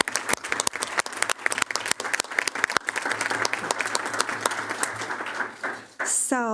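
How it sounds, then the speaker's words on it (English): Audience at a school board of education meeting applauding emergency and facilities staff, a sustained burst of many hands clapping with sharp individual claps, tapering near the end as a voice begins. "So can you join me in giving all of them a round of applause?"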